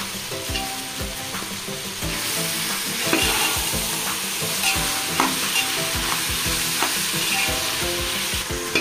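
Curry leaves and tomatoes hit a hot pan for a beans curry cooked in a pressure cooker, sizzling loudly and steadily, with repeated close scrapes and clanks of a spoon stirring throughout and no voices.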